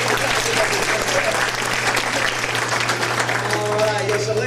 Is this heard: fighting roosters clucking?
no